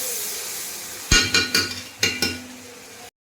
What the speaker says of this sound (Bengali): মশলাটা এবারে ভাজি ভালো করে।